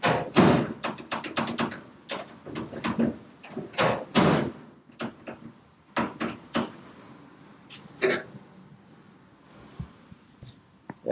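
A traditional hot rod's car door is opened and shut repeatedly, giving a series of close metallic clunks, latch clicks and thuds in uneven bursts with pauses between.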